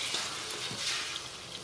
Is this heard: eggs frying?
yes